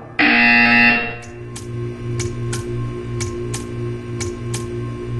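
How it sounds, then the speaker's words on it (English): In a Portal 2 test chamber, a loud, harsh buzzer sounds for about a second, then cuts off into a low electrical hum with a series of sharp, regular clicks. "You will hear a buzzer."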